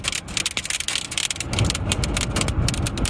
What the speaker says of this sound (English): is showering us in soybeans right now